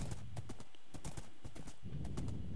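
Horse hooves clip-clop in steady rhythmic steps while riding in Minecraft, close and continuous for a couple of seconds with no talking.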